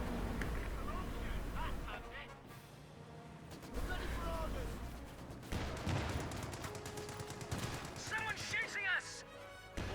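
Sniper cracks and machine gun bursts echo across a Company of Heroes 2 battle, with scattered shots and crashes amid a dense, rumbling mix of combat noise, mid-distance and fairly subdued.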